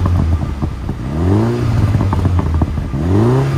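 A Mini Countryman JCW in sport mode with its exhaust valves open revs up twice, each blip rising in pitch with a deep exhaust tone, then settling back to a rumbling idle, close and loud.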